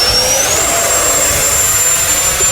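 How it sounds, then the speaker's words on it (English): An FMS Rafale 64mm EDF radio-controlled model jet whooshes past outdoors with a loud, sustained ducted-fan roar and a high whine that climbs in pitch. It sounds steady and close, with no talking. "Just backwards toss the EDF jet."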